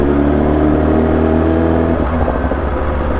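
A car fitted with a Hayabusa motorcycle engine revs hard, a loud, steady whining drone that holds high and then shifts and roughens near the end, close by and with no voices.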